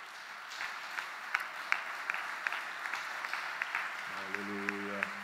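A church congregation applauds, a dense wash of clapping with sharper individual claps standing out, moderately close, while a voice speaks over it and a sustained tone joins near the end.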